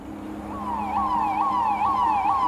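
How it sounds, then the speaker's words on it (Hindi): A police siren wails in quick, repeating rising-and-falling sweeps, steady and fairly loud, with no voices. "पुलिस के सायरन से क्यों शुरुआत हो रही है भाई?"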